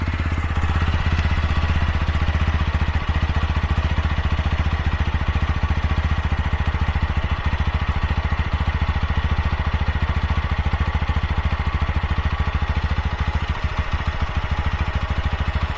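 A TVS Apache RTR 160 4V motorcycle with 31,000 km on it runs at a steady, close idle, its engine and exhaust chugging evenly throughout.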